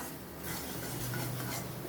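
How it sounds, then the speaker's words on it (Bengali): Green peas fried and stirred in a wok, a soft steady sizzle with a light scraping and rubbing of the spoon against the metal, faint and close, with no talking. "এই কড়াইশুঁটিটাকে এবার ভাজা ভাজা করছি"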